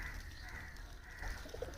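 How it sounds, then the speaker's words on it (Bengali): Pet pigeons coo softly and steadily at close range, a low repeated burbling with no voices over it. "আর আমার কিছু কিছু পায়রা তো আপনাদেরকে দেখাচ্ছি"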